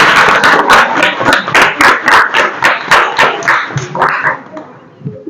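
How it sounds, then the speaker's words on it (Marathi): Primary schoolchildren at a quiz clap together in a loud, fast, rhythmic run of about a dozen sharp beats, then the clapping breaks up and fades as a voice comes in. "टाळ्या वाजवायच्या आहेत त्यासाठी"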